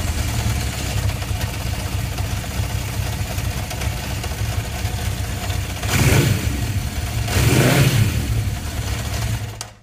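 A 1975 Honda CB750 K5 motorcycle engine fitted with a new starter motor runs at a steady, loud idle up close, then gives two brief throttle blips before easing back down.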